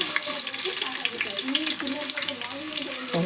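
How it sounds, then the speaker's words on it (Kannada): Chopped onions sizzle in hot oil in a pan for a chicken curry, a dense crackling fry that stays close and steady throughout. "ಎಣ್ಣೆ ಕಾದೈತ್ರಿ ಉಳ್ಳಾಗಡ್ಡೆ ಹಾಕೋತೀನಿ"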